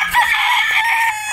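Quadro Boston Roundhead gamefowl brood stag crowing once, a close, loud, sustained cock-a-doodle-doo lasting about a second with no talk over it.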